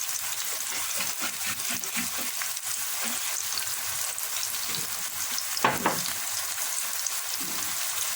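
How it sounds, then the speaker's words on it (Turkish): A tomato and pepper mixture added to a hot pan sizzles in a dense, steady roar that never lets up, with a brief stirring scrape partway through and no talking. "Yaptığım domates, biber karışımı. Bundan ilave ediyorum."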